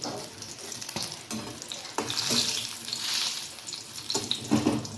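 Eggs fry in hot oil in a wok, a loud, close crackling sizzle with sharp pops and spatter bursts throughout, no voices.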